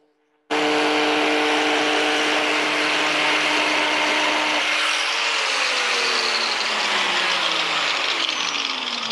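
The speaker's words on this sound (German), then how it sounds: "Und dann kann ich das wunderbar gerade hier eben fräsen." Power router milling HIMACS solid surface material, a loud sustained whine that starts abruptly and holds steady, its pitch shifting slightly as the cut continues.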